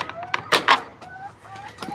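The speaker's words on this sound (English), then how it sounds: "There's my chickens. There's all my chickens." Hens in a barn cluck close by in short, uneven bursts, with a few sharper squawks and soft murmuring clucks in between.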